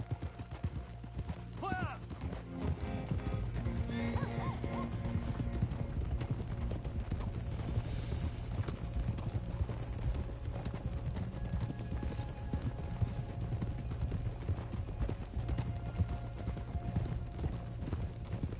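Horse hooves clip-clop steadily on ground in the Red Dead Redemption II video game, a continuous walking rhythm at moderate distance under ambient game sounds and faint background voices.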